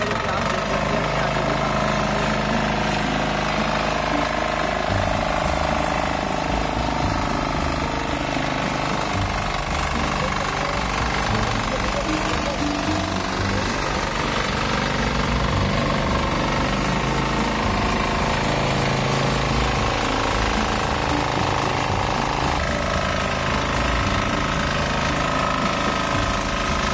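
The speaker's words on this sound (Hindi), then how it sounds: "यहाँ पर ट्रैक्टर को चलाकर दिखाया जा रहा है आपको" A small four-wheel mini tractor running during a live demonstration, its engine hammering steadily and loudly throughout with a constant rattling drone and no pauses.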